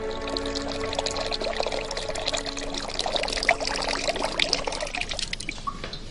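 Water pours steadily into a replica of an ancient clepsydra water clock, a continuous close trickle and splash with bubbling, liquid detail and no talking.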